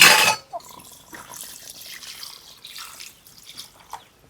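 A brief loud gush of water pours into a cooking pot of quail curry at the start, then gives way to faint drips and small trickling splashes.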